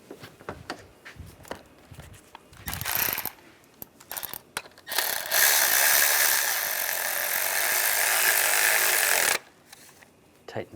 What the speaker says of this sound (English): Tighten down the bolt